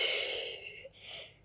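Close breathing during an advanced Pilates workout: a strong airy exhale followed by a shorter inhale, both near and fairly loud, with no talking.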